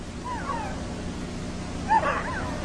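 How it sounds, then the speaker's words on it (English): A veteran husky and its pups on a 1947 Antarctic expedition give faint yelps and whimpers, two brief high calls about a second and a half apart over steady background noise from old film. "Ricky, the veteran husky, presides as the pups become doggy shellbacks."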